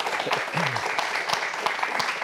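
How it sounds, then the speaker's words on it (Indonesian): An audience claps for a cabinet minister at an event, a steady patter of applause filling the whole stretch, with a brief voice sounding through near the start. "Boleh berikan tepuk tangan untuk Kang Menteri kita."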